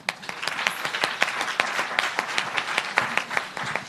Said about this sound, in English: So round of applause, please, for Mary Beth